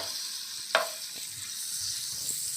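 Onions, capsicum and tomato fry in butter with a steady soft sizzling hiss, broken by a single sharp tap of a utensil against the pan early on, close and low in level.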